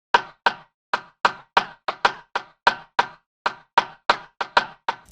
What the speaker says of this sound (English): That's just a rim drum sample that's been dragged into the sampler.